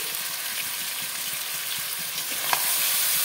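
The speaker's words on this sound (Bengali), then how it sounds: "আলুর সাথে কিছুক্ষণ কষাবো।" Chicken pieces with potatoes and spices sauté in a hot pan, giving a loud, continuous hissing sizzle with faint stirring scrapes underneath.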